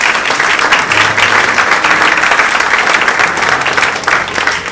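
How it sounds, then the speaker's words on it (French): A large audience claps steadily and loudly for the organizers at the tenth-anniversary event of the Maison des Associations in Mérignac, a dense, continuous applause that fills the whole stretch without pause. "Oui, vous pouvez les applaudir."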